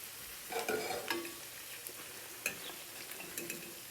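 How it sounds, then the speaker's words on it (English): Hot oil sizzles and crackles steadily while frying fish, with occasional sharper pops and light clinks of a utensil nearby. "And that oil is still sizzling."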